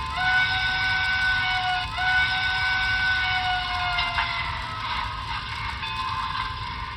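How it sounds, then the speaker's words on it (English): A model steam locomotive's sustained multi-tone whistle sounds, briefly breaking once and then holding, steady and fairly loud over a low mechanical hum. "And the whistle."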